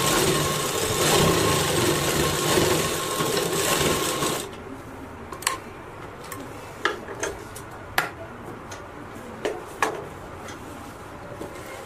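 Domestic sewing machine stitching the seam of a circle blouse (poncho style), a steady loud mechanical whir that stops partway, followed by scattered close ticks and clicks as the fabric is handled.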